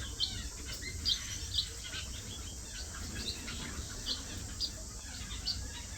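Small birds in a holding aviary, fed green grass seed heads, give faint, scattered high chirps and tweets every second or so over a steady low background hiss.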